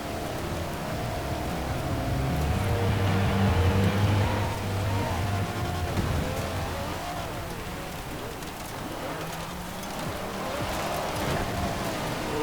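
A Jaguar car's engine drones steadily through a seasonal championship race in Forza Horizon 4, a continuous loud hum that swells and eases with gear and speed changes, mixed with road and tyre noise.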